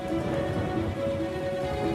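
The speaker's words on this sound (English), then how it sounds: "On one side, heavy rain pours down" Heavy rain pours down in a steady, dense hiss with no breaks, loud and continuous throughout.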